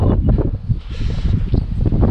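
Strong offshore wind at sea during a kitesurfing session buffets the microphone in loud, low, gusty rumbles, pulsing unevenly over a brief stretch with no voices.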